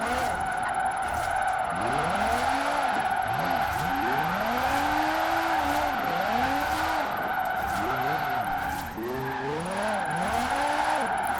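In Forza Horizon 4 a car drifts through corners in second gear, with its tires squealing in repeated rising and falling arcs over a steady engine drone.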